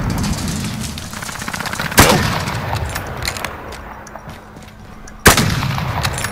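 Gunshots in Call of Duty Modern Warfare: two sharp, loud reports a few seconds apart, each with a brief rumbling tail, over quieter background game noise.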